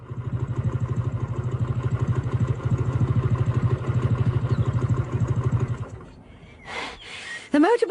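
A motorbike engine idling close by, a steady low rhythmic chugging thump that runs for about six seconds before cutting off, followed by a few brief clatters and knocks.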